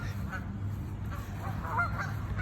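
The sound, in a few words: ducks at Duck Lake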